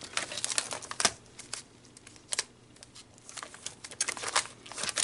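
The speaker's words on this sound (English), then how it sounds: "Grab my die cut binder." Papers and plastic sleeves crinkle and rustle as someone rummages through a die cut binder while crafting a mini album page, with soft irregular bursts of handling noise close by and no speech.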